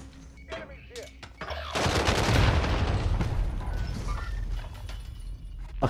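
Rapid automatic gunfire in Call of Duty Warzone on Verdansk, a few scattered shots first, then a loud sustained burst of fire for several seconds with clattering tails, under no spoken words.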